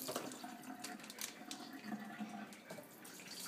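Water runs from a sink tap in a steady, splashing stream, close by and fairly quiet, with a few faint voices in the background.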